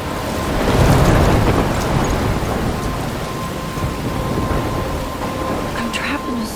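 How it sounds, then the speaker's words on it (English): Thunderstorm with steady heavy rain from the video game Life is Strange: a low rumble of thunder swells early on, then a dense, continuous hiss of rainfall, with a faint tone held underneath. "I'm trapped in a storm?"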